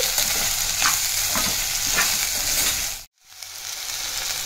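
Baby potato curry fries in a pan while coriander powder and coconut powder are stirred in, a busy sizzle with scraping stirring strokes, broken by a brief silence near the end, then the sizzling resumes.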